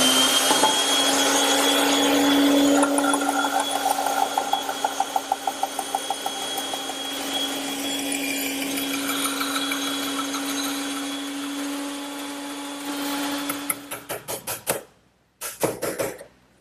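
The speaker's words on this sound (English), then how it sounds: "I prefer to do it on the bandsaw." A bandsaw runs steadily for about fourteen seconds, its motor hum and blade whine loud and constant while it cuts the shoulders of wooden tenons for a trestle table, then winds down and stops with a brief restart near the end.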